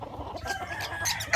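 A sweater-breed gamefowl rooster at a farm in Sto. Tomas, Batangas gives a few short close clucks, ending in a sharper, louder call.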